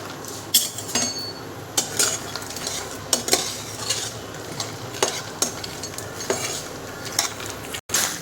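Makhana and cashews dry-roasting in a little ghee while a spoon stirs them, giving repeated scraping clinks against the pan roughly every half second over a low, steady sizzle, close and without talk.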